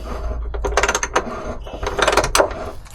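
A ratchet works on a bolt during an ambulance-to-campervan conversion, giving bursts of rapid mechanical clicking with short pauses between them over a low background hum.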